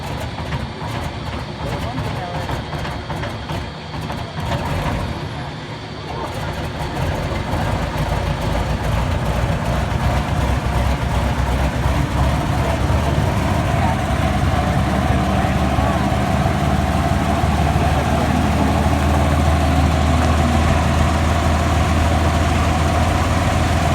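A P-38 Lightning's aircraft engine runs in a steady, heavy drone that swells louder after a brief dip, with someone talking over it.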